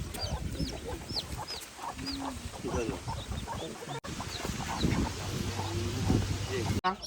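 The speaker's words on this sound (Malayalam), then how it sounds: "ഇതാ കോഴിയും കുട്ടികളും" Native country hens cluck and chicks peep in a busy farmyard, with steady chatter and background voices throughout; one low drawn-out call stands out near the end.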